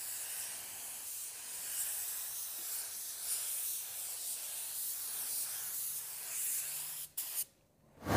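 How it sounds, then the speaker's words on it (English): A spray gun hisses steadily in long, even passes spraying Upol clear coat onto a car panel, close and continuous, before cutting off abruptly near the end. "We're spraying upol clear."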